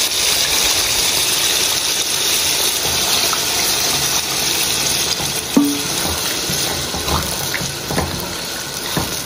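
Tap water runs into a cooking pot for a beef pot dish in a home kitchen, a steady close rushing stream with a few small clinks and no talking.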